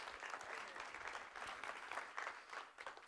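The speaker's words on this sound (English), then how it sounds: "give the Lord a good hand clap of praise." Congregation clapping in a church during a worship service, a dense, steady wash of many hands that carries on at even volume for the whole stretch with no talk over it.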